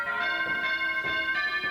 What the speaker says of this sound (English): That innocent little doorbell marked the start of a twisted path that Eve and Margot would follow to the end.